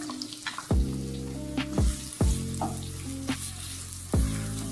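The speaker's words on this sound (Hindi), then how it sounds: "ऑयल में सबसे पहले प्याज डाल दें।" Onion frying in a cup of hot oil, a close steady sizzle broken by several loud ringing knocks of a spoon against the metal pan, with no voices.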